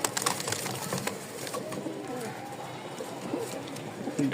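A pair of Lahori pigeons, one male and one female, shift about in a cage at a bird market, with soft cooing and fluttering sounds close by over steady background chatter and market noise.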